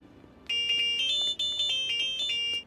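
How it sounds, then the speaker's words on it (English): An Itsy Bitsy Spider phone ringtone from a Spider-Man cartoon plays as a bright electronic melody of quick repeated tones in two phrases, clear and alone after a brief quiet start. "Peter's ringtone is the Itsy Bitsy Spider"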